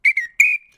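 A little red whistle blown in three short, clear, high-pitched toots, the last held slightly longer, loud and close with nothing else around.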